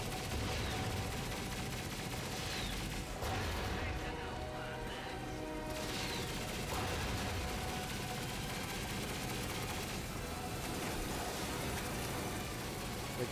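Fusion grenade blasts and weapon fire from the video game Ratchet and Clank come as a dense, continuous clatter of explosions and shots, played loud throughout with brief dips in intensity.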